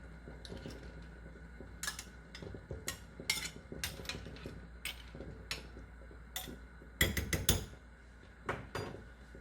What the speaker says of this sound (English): Using a spoon, slowly cut the tofu in pieces, just enough to fit into the block pot.